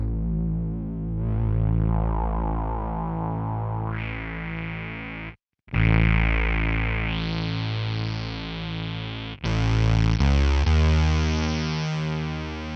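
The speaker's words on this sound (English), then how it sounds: "like a really harmonically rich synth sound back in," A buzzy, harmonically rich synth tone from a guitar-synth pedal drones on as its filter sweeps open and closed, with a brief dropout and shifting pitch steps.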